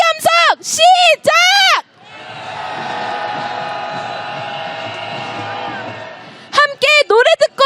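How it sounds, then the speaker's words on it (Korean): A large candlelight protest crowd in Korea roars for President Yoon Suk-yeol's impeachment, a sustained swell of cheering and shouting for several seconds, bracketed by loud chanted slogans through amplification before and after. "윤석열 탄핵 함성 시작!"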